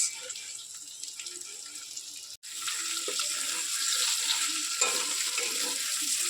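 Lightly fried onions being stirred into chicken in a pan for chicken do pyaza make a steady close hissing sizzle with soft scraping, briefly cutting out and then returning louder.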